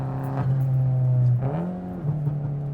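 A turbocharged Fiat 500 engine revs while driving, a close steady drone that surges, dips briefly, then climbs again in pitch over under three seconds.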